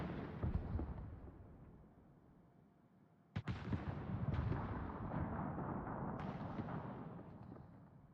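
Naval gunfire in World of Warships, a loud sudden boom breaking a steady rumbling low roar of battle, followed by a few softer distant thuds and bursts.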